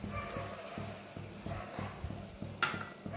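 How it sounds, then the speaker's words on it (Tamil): A small tumbler of water poured into egg masala gravy of onion and tomato in a pan, heard as a rhythmic series of glugging, splashing pulses with a brighter splash near the end. "அதில் 1 டம்ளர் மட்டும் தண்ணி ஊற்றுங்க."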